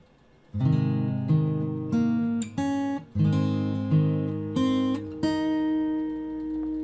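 Slow fingerstyle acoustic guitar plays the full measure 17 of a piece, with a low strummed chord and then a steady run of plucked notes and chords that ring and overlap, close and clean.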